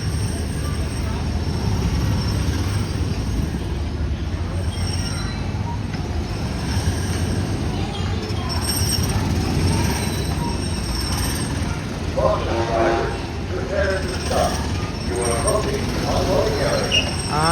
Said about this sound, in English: And there goes the monorail